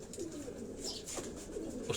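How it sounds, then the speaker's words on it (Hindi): Pigeons on a home rooftop in Lahore coo softly in short repeated calls, fairly close and alone, with no voices over them. "तो ये वो कबूतर हैं"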